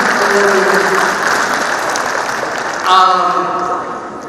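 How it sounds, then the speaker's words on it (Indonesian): Audience applause at a forum on the economy and the creative sector, steady and loud with a dense spread of clapping, then a voice briefly rises above it near the end as the clapping fades. "terima kasih tepuk tangan sekali lagi."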